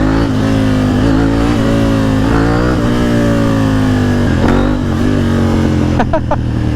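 A tall motorcycle's engine revving hard as the front wheel lifts, a loud, close, continuous roar with rising and falling pitch and a few brief knocks toward the end.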